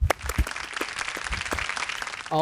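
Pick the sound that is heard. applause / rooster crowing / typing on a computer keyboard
applause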